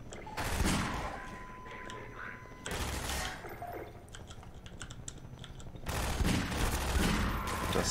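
Bursts of rapid gunfire in Half-Life 2 come in three loud volleys separated by quieter stretches, with faint clicking and low background noise throughout.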